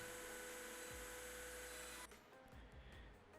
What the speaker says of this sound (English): I'm using the 1/4 inch end mill because it will remove most of the material